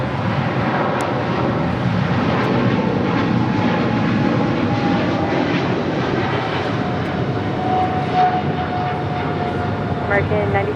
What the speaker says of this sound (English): Cargo King 224 taking off to Shanghai on a 777 freighter